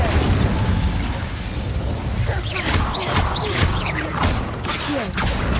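A fire spell is cast in Hogwarts Legacy amid loud crackling bursts and magical whooshes, with rising swept tones and pops layered over dense game noise.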